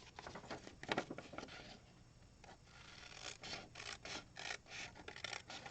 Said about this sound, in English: this little piece of paper I know needs to be trimmed